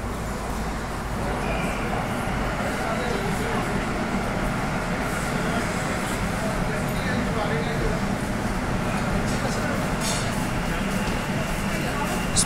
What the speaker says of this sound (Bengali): স্প্ল্যানেড থেকে হাওড়া স্টেশনে যাওয়ার জন্য মেট্রো চলে এসছে।